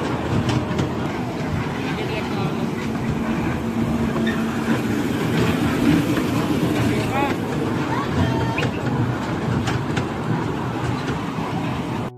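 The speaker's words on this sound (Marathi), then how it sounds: "ही ट्रेन एवढी फिरली की अक्षरशः बाबूला झोप यायला लागली." A small amusement park ride train runs with a steady rolling rumble and faint rattling, continuous and fairly close, while people talk over it throughout.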